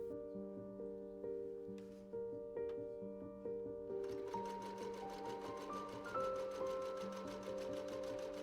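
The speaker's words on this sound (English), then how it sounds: "Next, I stitched the front and back pieces together and pressed the seams open." A sewing machine stitches the front and back pieces of cozy pants together, first in short separate bursts, then running steadily with a rising whine, close and fairly quiet.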